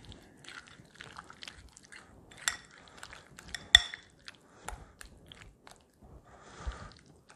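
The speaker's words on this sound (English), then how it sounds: "A couple spoonsful, mix it in some more." A spoon works through a bowl of taco filling ingredients for keto cheese wrap tacos, giving soft scraping clinks and wet stirring sounds in irregular bursts, close and fairly quiet, with no talking.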